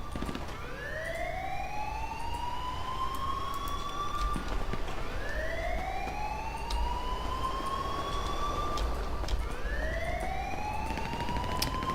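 Police sirens wail in repeated rising sweeps during a GTA Online chase, several cycles stacked over a steady road-traffic rumble, loud and continuous with no talk.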